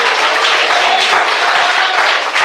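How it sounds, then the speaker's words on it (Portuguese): A church congregation claps together during a preacher's sermon; a loud, dense burst of applause fills the whole short stretch evenly, with no voice above it. "Quem entendeu, bate palmas."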